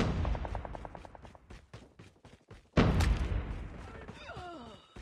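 In the Call of Duty Mobile video game, rapid gunfire cracks out in quick bursts followed by a loud booming impact and lingering rumble, with electronic chirps at the end.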